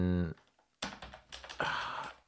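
Computer keyboard typing while writing C++ code, heard as a couple of short bursts of clicking keystrokes at close range, broken by pauses, with no talking over it.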